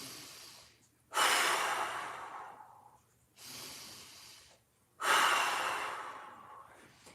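Deep, slow breathing during a mobility exercise: three long breaths, each a strong rushing inhale that tapers off, heard close with clear gaps between them and no talk.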